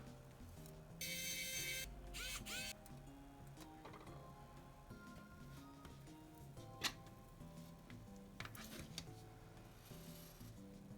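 Small screws being driven back into the circuit board of a Sony M800V microcassette recorder during a repair, with faint scraping, rubbing and ticking of a screwdriver, quiet and close with a few sharper clicks.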